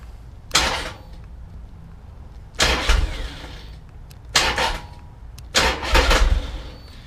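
A Triumph Rocket III motorcycle engine cranks over in four separate bursts of starter whir, each lasting under a second, with quiet gaps between them and no voices.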